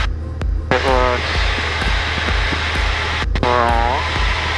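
A light airplane's engine drones in flight during emergency training, a steady throbbing hum close by, with tonal voice-like sounds rising over it at intervals.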